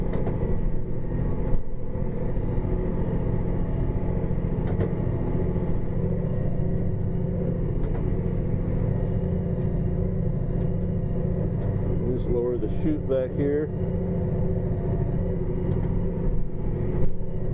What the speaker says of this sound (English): This tractor's pretty nice. I can just creep right along, fill these bunks up.